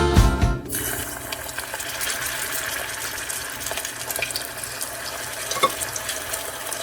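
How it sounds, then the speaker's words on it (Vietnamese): Seasoned ground pork meatballs go into very hot oil with a brief clunk, then a steady, close sizzle and crackle continues alone with occasional pops. "Dầu nóng già rồi nè, mình sẽ cho vào ha."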